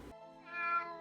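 A single short cat meow, tonal and slightly rising, plays in a scene from the series Wednesday, close and clear against a quiet background.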